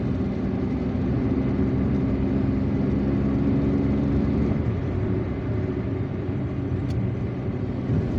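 A car driving along a wide road in Algiers, heading northwest toward Ain Benian, with a constant low engine drone and road rumble heard from inside, steady and fairly loud throughout.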